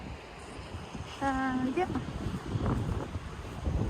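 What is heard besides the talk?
wind blowing on a windy day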